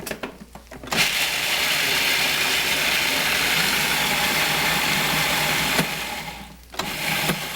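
A blender grinds a cup and a half of pumpkin seeds into flour, a loud steady whirring roar running from about one second to nearly seven, briefly stopping and then restarting near the end.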